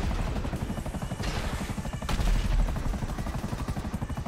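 A helicopter in the video game GTA V flies with a loud, close, steady rotor chop pulsing rhythmically throughout, with a few sharp bursts breaking through the thumping.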